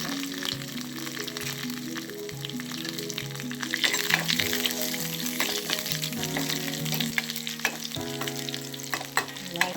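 A tempering of mustard seeds and garlic sizzles loudly in hot coconut oil for tomato rasam, a dense steady crackle with popping spikes throughout, close up and with no talking.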